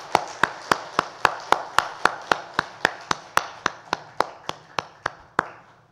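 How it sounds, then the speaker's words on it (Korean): Applause of the congregation at a Sunday church service in Korea, heard as about twenty evenly spaced, sharp unified claps in a steady rhythm, fairly close and alone without talk, gradually fading toward the end. "하나님께 영광의 박수 올려드립니다."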